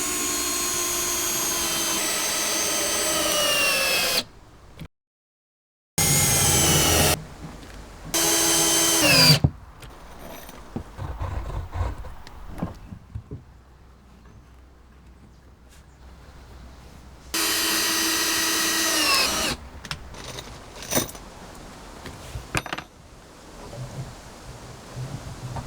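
A power drill pre-drills holes and drives long screws into the wooden base joints of a tree house. Loud, sustained whirring runs come in several separate bursts with quiet gaps and lower-level handling noise between them.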